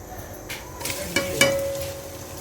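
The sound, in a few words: onions sizzling as they fry in oil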